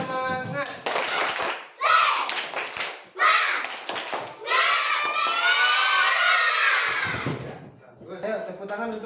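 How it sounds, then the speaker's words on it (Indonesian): A school class does rhythmic spirit clapping in bursts, hands striking together in patterned sequences while children shout and chant along, close and lively with pauses between rounds. "Tepuk semangat"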